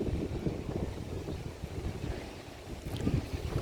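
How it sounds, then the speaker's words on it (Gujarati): Strong storm wind raising dust in a village buffets the microphone in low, rumbling gusts that rise and fall without pause. "બહુ જ પવન ફેંકે છે અત્યારે"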